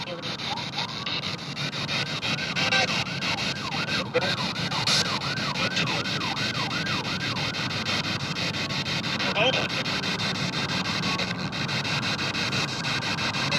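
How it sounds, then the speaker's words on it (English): Emergency vehicle sirens wailing in the distance outside a Pittsburgh library, a faint rising and falling tone repeating under steady background noise and nearby talk. "Can you hear the sirens in the background?"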